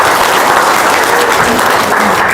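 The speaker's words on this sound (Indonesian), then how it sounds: "biar semangat, tepuk tangan dulu dong." An audience at an Indonesian talk show applauds with dense, steady clapping that stays loud and even throughout, with no voices over it.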